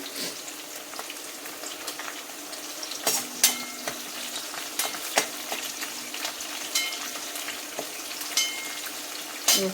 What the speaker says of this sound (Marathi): चांगलं परतून घ्यायचा गुलाबी होईपर्यंत लसूण पण